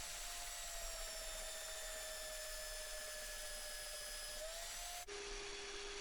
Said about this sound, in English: I used the belt sander to finish up the face of the hammer.